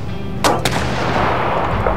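Two sharp gunshot cracks from the video game This War of Mine ring out in quick succession, close and loud, over a dense rumbling game background.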